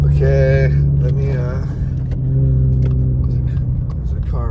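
A car rolls along a snowy, sleet-covered road in Big Bear Lake, California, giving a steady low rumble throughout while someone talks over it.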